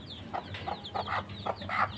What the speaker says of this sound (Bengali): আজ আমি আমার মুরগির বাচ্চাগুলোকে ছাদে ছেড়ে দিয়েছি।